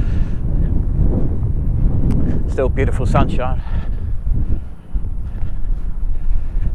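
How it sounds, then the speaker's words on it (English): Strong wind buffets the microphone in a constant low roar and rumble on Devil's Dyke in Sussex, with a person speaking briefly over the gusts. "It's really windy today, really windy up here."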